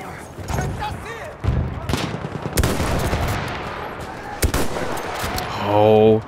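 Sniper rifle shots in Battlefield 1 multiplayer, a handful of loud single cracks spaced a second or two apart amid busy battle noise and distant gunfire.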